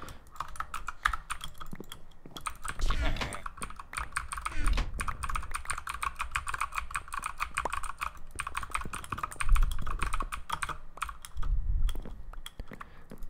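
Clicky mechanical keyboard being typed on rapidly during a Bedwars game, dense bursts of sharp close keystrokes with brief pauses, joined by occasional low thumps.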